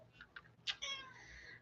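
Pet cat meowing close by, a couple of short soft chirps followed by a longer drawn-out meow, fairly quiet against a still room.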